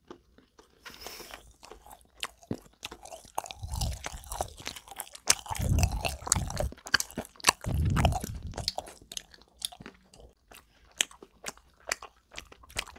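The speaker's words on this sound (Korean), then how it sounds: "이 겉에 부분이 설탕이 묻어 있어서 씹을 때마다 바삭바삭합니다." Sugar-coated jelly candy is bitten and chewed close to the mic, making loud crunches. The crisp bites come in dense irregular clusters with soft wet chewing sounds between them, and no one speaks.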